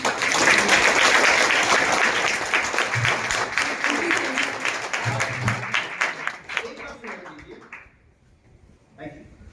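Strong audience applause at a Vestige food supplement meeting, dense rapid clapping from many people that holds loud for several seconds, then thins to scattered claps and fades nearly to quiet.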